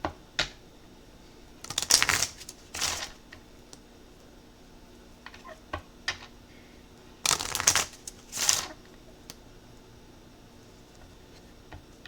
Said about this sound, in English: I gotta do at least 3 more shuffles